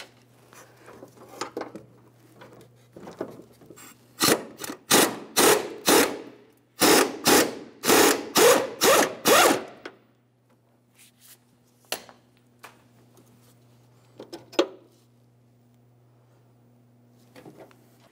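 A 21mm upper control arm bolt is loosened on a 2002-2009 Chevrolet Trailblazer, heard as two close, loud runs of rapid tool bursts with quieter clicks and clanks before and after.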